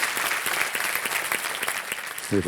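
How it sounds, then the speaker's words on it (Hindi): Audience applause on the KBC game show, a dense, steady clapping from the studio crowd that fills the whole moment, with a voice beginning to speak at the very end. "ताली बजते रहे"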